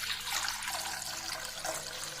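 Fried lentil fritters (vada) being dropped into a bowl of water to soak out oil, heard as a continuous bright splashing, pouring rush with no talking.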